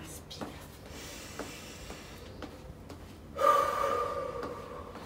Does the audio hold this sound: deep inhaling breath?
yes